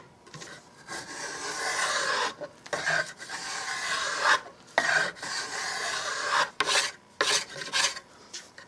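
A rasp shapes the twisty-grained wooden stock of a Winchester Model 100 rifle, close and steady, with long rough strokes repeated one after another and short pauses between them.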